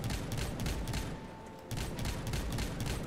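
Rapid gunfire from a fused, spread-shot weapon in a Ravens Path crafting video game, a dense burst of shots that pauses briefly and then resumes, fairly quiet throughout.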